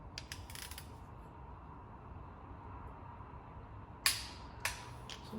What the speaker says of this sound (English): The head is completely fitted. It's all torqued down.